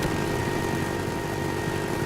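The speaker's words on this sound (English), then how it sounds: "Enemy Huey headed your way." A Huey helicopter in the video game Black Ops thrums as a steady, loud rotor and engine drone that fills the whole moment without a break, with no voices.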